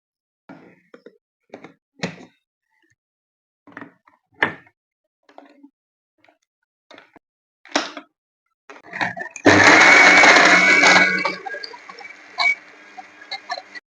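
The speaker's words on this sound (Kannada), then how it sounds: "ಈಗ ಸ್ವಲ್ಪ ನೀರು ಹಾಕಿ ಇದನ್ನ ತಿರ್ ಮಿಕ್ಸಿ ಮಾಡ್ಬೇಕು" A kitchen mixer grinder blends coconut, sambar powder and tamarind with a little water. A few sharp knocks and taps come first, then a loud, close motor whir roars for a few seconds before cutting off.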